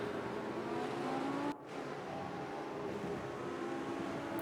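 Race cars roar through lapped traffic at Fuji in the racing sim RENNSPORT, a steady, loud engine drone that dips briefly midway before carrying on.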